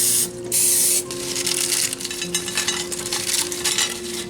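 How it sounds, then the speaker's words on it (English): Cooking spray hisses into a 9x13 casserole dish in a loud close burst, followed by a softer uneven spray with a steady background hum underneath. "I'm gonna go ahead and spray a 9x13 casserole dish"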